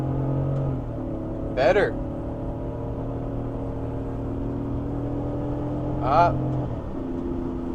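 A BMW E83 X3 engine holds a steady, droning hum in third gear at around 5,000 RPM. The tone is heard from inside the cabin, with a couple of brief spoken words over it.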